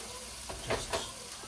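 Chicken browning in a pan for a biryani-style dish gives a steady low sizzle, with a few brief louder stirring scrapes midway, all fairly quiet.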